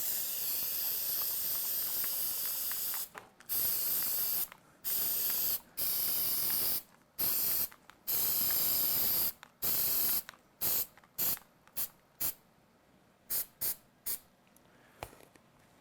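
Aerosol spray paint hisses onto robot bumpers in loud bursts, first long sustained sprays and then a quick series of short pulses, close and with no talking.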